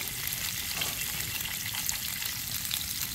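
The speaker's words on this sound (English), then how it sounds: "First crappie in the skillet." Crappie fish sautéing in olive oil in a skillet over a creekside campfire, with a loud, continuous crackling sizzle that holds steady throughout.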